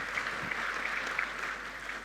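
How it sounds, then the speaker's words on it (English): Brief applause from a tech conference audience at an Intel booth presentation, steady and moderately quiet throughout. "Give him a round of applause."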